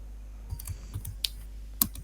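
Keys clicking on a computer keyboard as a file name is typed, a few sparse, light taps spaced across two seconds with one sharper click near the end, quiet and close with no talk.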